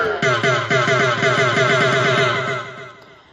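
A wooden block percussion sound on an oriental keyboard repeats in quick, steady knocks under a sustained, buzzy melodic tone, loud and close, with no talking.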